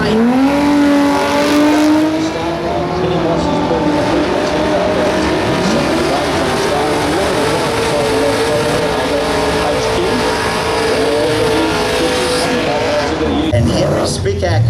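A six-cylinder TD Ford Cortina and a 350 Chevrolet HQ roar down a drag strip, their engines climbing through the gears, loud and steady, while an announcer talks over the racing.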